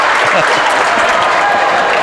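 Basketball crowd cheering and clapping in a gym, a dense steady roar of applause filling the whole moment, loud and close, with voices blended in.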